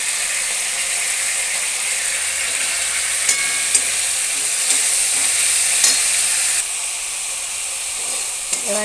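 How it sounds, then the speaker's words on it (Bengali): Chopped onions sizzle and fry steadily in a pan with cumin for a chicken curry, a continuous bright hiss with occasional light clinks of a stirring utensil, close and loud with no talking. "এবার আমি পেঁয়াজগুলো ভেজে নেব।"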